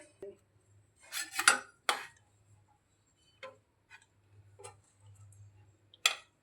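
Curry of soybean chunks is spooned from a pot into a serving dish, giving a few separate metal clinks and scrapes of utensils against cookware, with quiet pauses and a faint low hum between them.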